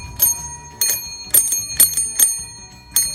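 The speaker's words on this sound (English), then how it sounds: "That's another bell." A vintage bicycle bell rung by hand, giving about seven bright metallic dings in an irregular rhythm, each ringing out briefly. The bell is close and loud, with no talking.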